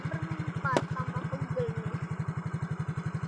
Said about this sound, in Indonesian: Aduh, kita naik motor bertiga, guys.